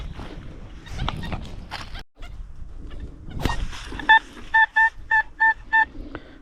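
Metal detector signal tones during a field hunt for palace artifacts: a run of six or seven short, evenly spaced electronic beeps near the end, following rustling and handling noise, close and clear.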